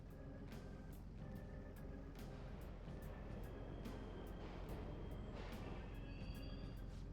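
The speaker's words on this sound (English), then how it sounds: "The trains are totally running." Subway trains run in a Persona 5 Royal video game, producing a continuous low rumble and rattle with scattered clanks and short high tones, steady and moderately loud throughout, with no voices heard.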